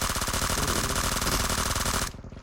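Rapid automatic gunfire in the mobile battle royale game PUBG Mobile, a loud continuous burst of shots that cuts off abruptly near the end, with no talking.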